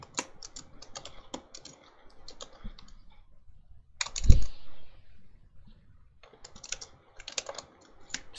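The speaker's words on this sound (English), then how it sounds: "Can you hear me typing?" Bursts of rapid computer keyboard typing, close and crisp, stopping for pauses, with a louder thump midway, then typing resumes.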